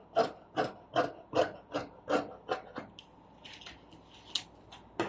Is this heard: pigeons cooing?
no